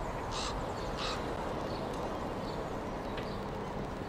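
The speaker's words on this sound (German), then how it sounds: "Raben sind da. Oder Krähen." Crows or ravens caw twice in quick succession early on, then faintly again later, in the video game Black Mirror 2, set against a steady, dense outdoor ambience.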